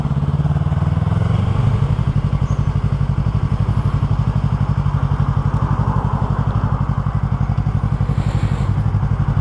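A Yamaha YZF-R3 motorcycle engine runs close by at a steady, loud idle, its rapid even pulses continuing throughout with no talk.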